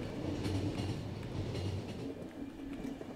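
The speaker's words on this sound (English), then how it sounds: "Train's not in great condition" An experimental-model train in poor condition rumbles steadily along the tracks in the game The Final Station, a dense continuous low roar with faint rhythmic clatter and no voices.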